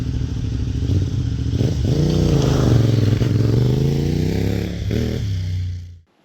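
A motorcycle pulls away from a standstill as the clutch is released, the engine note rising steadily in pitch for several seconds at close range, then cutting off abruptly.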